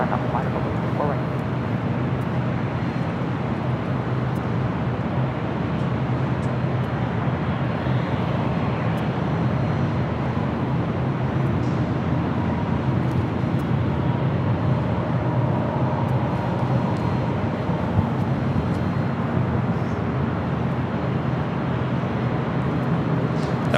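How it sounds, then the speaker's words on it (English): An Alaska Airlines Boeing 737-800 arriving from Seattle and landing at LAX, a loud sustained jet engine roar holding steady for the whole stretch, with people talking over it. "That was Alaska Airlines flight 1144 coming in from Seattle on a 737-800."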